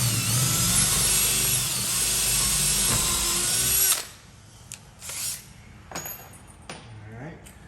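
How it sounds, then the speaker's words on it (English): A power drill with a dull bit bores into a wooden door while a Schlage deadbolt is being fitted: a loud, steady whirring grind for about four seconds, then it stops, leaving quieter clicks and handling noises. "Dull drill bit."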